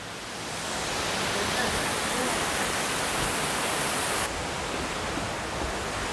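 The Sera Ella waterfall near Matale pours beside a rock cave, a dense, steady hiss of falling water that swells in and then stays constant, close and loud.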